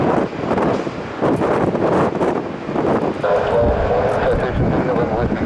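An airliner departs Tampa airport bound for Detroit, its broad, roaring engine noise filling the air with wind buffeting the microphone while people talk nearby.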